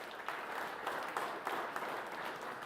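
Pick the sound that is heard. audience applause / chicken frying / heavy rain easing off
audience applause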